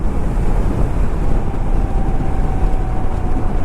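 A Honda Hiness CB350 motorcycle ridden at 110 km/h on new off-road tyres: a steady, loud rush of wind over a low continuous engine drone, with no talking.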